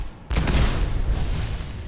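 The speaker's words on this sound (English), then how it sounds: "Double explosion." A loud explosion booms in Fallout 4, hitting suddenly after a quiet moment and leaving a deep, rumbling roar that lingers without dying away.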